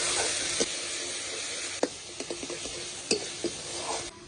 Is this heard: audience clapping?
no